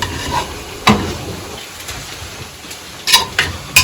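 Chicken is stir-fried in a pan outdoors in a Nepali village, with a soft sizzle under a few sharp, intermittent scrapes and clinks of the stirring utensil.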